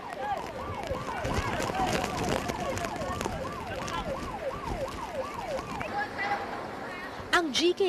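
A wailing ambulance siren sweeps up and down in a repeating rise-and-fall pattern at a slum resettlement compound in Tondo, loud and steady, then breaks off near the end into short bursts amid street noise.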